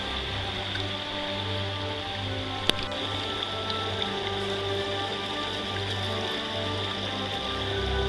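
Water rushing steadily through a gold sluice fitted with miracle mat on the Wild Ammonoosuc river, a continuous close wash of flow with one sharp click partway through.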